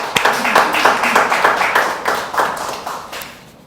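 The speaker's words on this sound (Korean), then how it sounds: "하나님께 영광의 박수를." Worshippers at a Sunday church service clap in applause, crisp close hand claps in a quick, roughly even rhythm that thin out and fade by the end.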